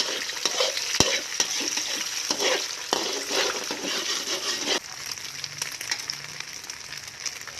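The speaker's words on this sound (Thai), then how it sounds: "เจียวกระเทียมให้เหลืองก่อนค่ะ พอกระเทียมเหลืองก็ใส่ไข่ลงไปเลยค่ะ" Garlic and egg fry in a pan for Thai fried rice with tamarind chili paste, giving a steady sizzle with repeated stirring scrapes, then a quieter hiss.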